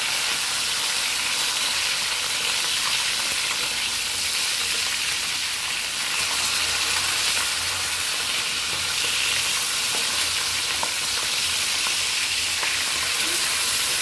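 Fish frying in a pan of hot oil gives a steady, dense sizzle and crackle that runs unbroken for the whole stretch, fairly close and even in loudness with no talking.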